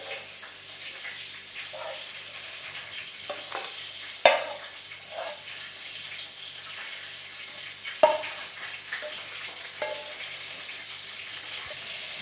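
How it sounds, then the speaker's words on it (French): Minced meat and tomatoes cook in a pan for a potato and mince gratin, producing a steady low sizzle broken by a few sharp stirring knocks and scrapes, close and moderately loud, with no voice. "Donc vous les faites cuire avec la viande hachée et les tomates."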